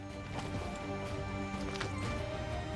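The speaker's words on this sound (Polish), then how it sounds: "Gdyby ten koń mógł jechać sprintem dłużej niż 5 metrów." Horse galloping in the video game Assassin's Creed III Remastered, a steady clip-clop of hooves running continuously at close range over a dense bed of game music and ambience.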